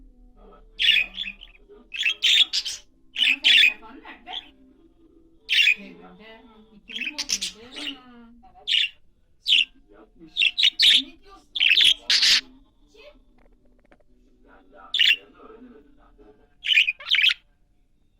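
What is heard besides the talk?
bird squawking and chirping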